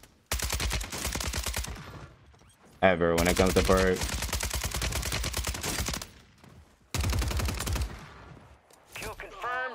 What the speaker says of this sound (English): Oh, I'm gonna shoot that.